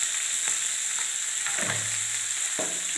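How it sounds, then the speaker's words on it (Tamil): Mango rice mixture with turmeric frying in a pan, a steady sizzle under a few scraping strokes of a spoon against the metal, with no talking. "இதை நல்லா வதக்கலாம்"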